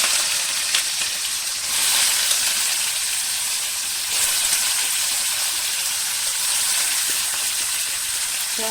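Onions dropped into hot oil in a home kitchen pan while making Tamil-style chicken gravy give a steady, bright sizzle and hiss that holds evenly throughout, with no talk.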